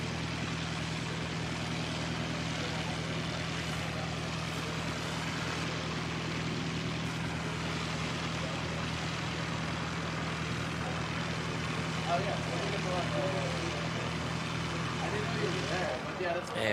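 An Emirates airliner departing Christchurch Airport, a broad steady jet roar heard from a distance across the airfield, building slightly toward the end, with voices chatting nearby.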